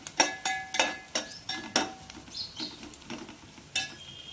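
Onions for mushroom biryani softening in a pan, heard as a quiet sizzle broken by repeated sharp scrapes and clinks of a spoon stirring against the metal, no voices present.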